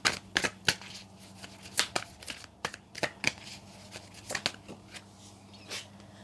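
Tarot cards are shuffled by hand close up, a run of crisp riffling slaps and flicks in an irregular rhythm, with no talking.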